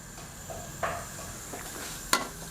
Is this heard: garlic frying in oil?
yes